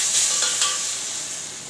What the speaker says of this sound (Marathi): आता मी टाकून पाहते लसणावर। लसूण चांगला असा करकडला पाहिजे